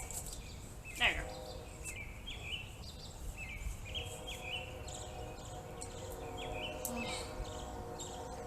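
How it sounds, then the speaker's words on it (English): Birds chirp outdoors in a repeated series of short, high calls over steady background ambience, fairly near and moderately loud, with a brief louder call early on. "can you guys hear the birds? Don't they sound so lovely?"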